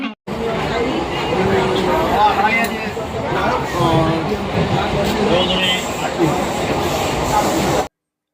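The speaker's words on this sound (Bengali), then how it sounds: "ট্রেনে বসে আছি" Steady rumble and rattle of a moving passenger train on a winter morning in Bengal, heard from inside a carriage, continuous and fairly loud, with a singing voice and people's chatter over it.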